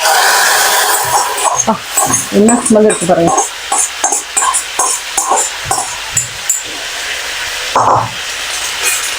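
Onion and curry leaf tempering sizzling into green chilli dal, a crackling hiss with stirring clatter, close and loud while someone talks over it.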